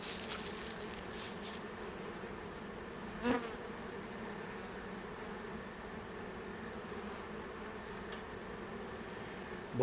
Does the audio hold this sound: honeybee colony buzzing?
yes